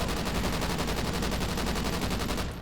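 Sustained automatic fire from an M27 IAR light machine gun in Call of Duty Ghosts, a dense unbroken stream of rapid, loud shots with no pauses, alone without talk.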